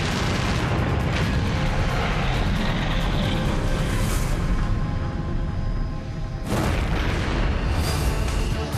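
A deep, rumbling roar of an explosion dominates throughout, loud and sustained, with a sharp burst breaking in near the end.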